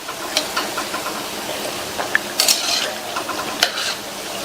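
Vadai frying in hot oil on a medium flame, a continuous bubbling sizzle broken by soft scraping knocks as each one is turned over in the pan.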